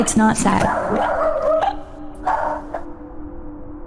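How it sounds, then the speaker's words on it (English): A sausage dog yelps and whimpers over the first half-second, then quieter whines follow, all tangled with close talking voices throughout. "Sorry about my sausage dog."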